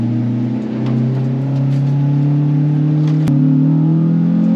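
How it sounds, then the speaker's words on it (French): A Honda Civic with no muffler revs on a race track. The engine note is loud and close and climbs steadily in pitch, with one sharp click partway through and no one talking. "Elle fait un bruit bizarre la Civic. Je sais pas si c'est parce que j'ai pas la sourdine"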